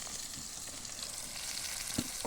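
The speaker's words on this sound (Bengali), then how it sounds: "তেল গরম হয়ে গেছে, এখন আমি পেঁয়াজগুলিকে ছেড়ে দেব" Onions frying in hot oil during a village picnic cook-up, a steady broad sizzle that runs the whole time with a couple of soft clunks near the end, close and moderately loud with no voices.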